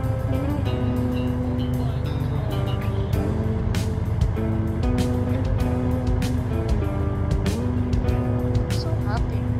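Rodger Dodger 2.0 car engine in a video game, a continuous loud motor drone with shifting pitch and clicks, running under talk throughout.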